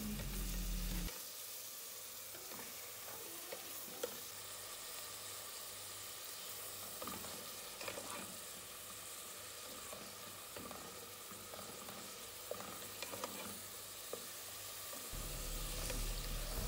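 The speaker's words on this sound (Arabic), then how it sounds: "أختي قطعت البصل وقطعت الفلفل وحمستهم سوية" Onions and peppers sizzle and crackle steadily in a hot pan, with occasional stirring clicks and no voices.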